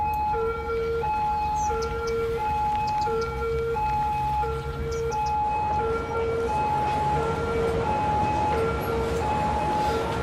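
An ambulance siren in the city-building game Cities Skylines, a steady two-tone alternating wail repeating throughout over a busy traffic hum.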